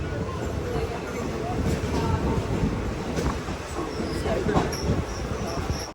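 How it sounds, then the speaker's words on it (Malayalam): Mail train pulling into platform 3 at Kannur railway station, a rumbling rolling drone with faint clicks and squeals, a voice talking over it throughout. "കണ്ണൂർ റെയിൽവേ സ്റ്റേഷൻ്റെ 3-ാം നമ്പർ പ്ലാറ്റ്ഫോമിലേക്കാണ് ട്രെയിൻ വരുന്നത്."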